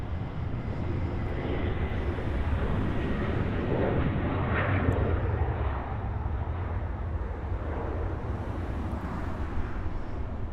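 Embraer E190 jet airliner departing Los Angeles airport, a steady broadband engine roar held at even loudness throughout, with no talk over it.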